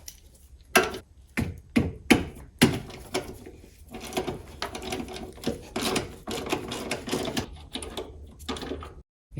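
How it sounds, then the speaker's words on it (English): A wrench working loose 14mm bolts on a Toyota Camry 2.2L engine, a close series of sharp ratcheting clicks and metallic knocks in uneven bursts, with quieter clatter between. "We are going to remove each of these bolts."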